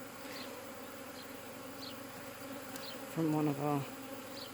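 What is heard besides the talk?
buckfast honey bees buzzing around hive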